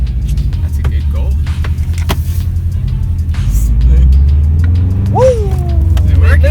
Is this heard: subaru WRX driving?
yes